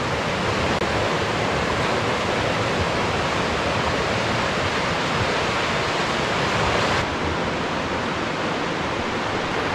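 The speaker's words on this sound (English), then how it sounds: "Definitely the best river in the Lake District for my liking" A river in the Lake District rushes steadily as dense, loud broadband water noise with no breaks, close by and alone, dropping slightly in level near the end.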